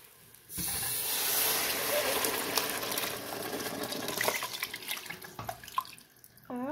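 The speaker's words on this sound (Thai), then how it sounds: "บัดนี้เราก็สิใส่อันน้ำปลาแดกลงไปเนาะ" Fermented fish liquid, pla daek, pours steadily into a pan for a homemade sea sardine padaek, a continuous close splashing hiss lasting several seconds before tapering off.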